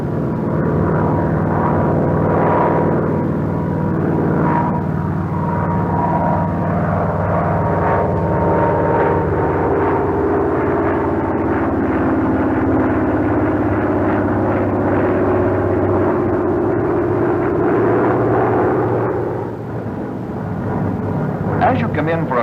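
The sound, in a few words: Grumman F6F Hellcat aircraft flying an Immelmann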